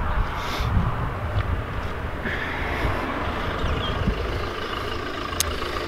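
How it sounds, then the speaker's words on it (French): A Kia Sorento engine runs at idle, a steady low rumble with no clear start-up burst. "Je sais pas si t'entends la voiture démarrer."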